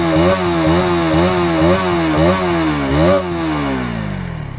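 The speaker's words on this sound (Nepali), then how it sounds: "You can hear the sound. हाम्रो अन्डरबेली एग्जस्ट रहेको छ" A KTM Duke 200 motorcycle with an underbelly exhaust revs loudly and close, its engine note rising and falling in several quick throttle blips before settling into a steady, slowly fading idle.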